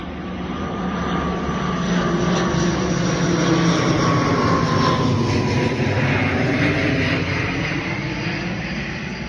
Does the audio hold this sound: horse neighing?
no